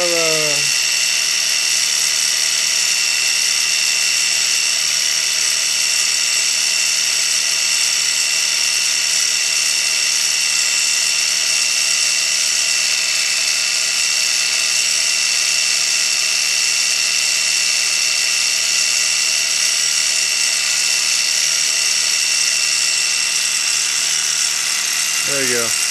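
A G0704 milling machine spindle spins at about 4700 RPM, giving a loud, steady high-pitched whine that holds unchanged throughout, with brief pitch sweeps at the very start and end.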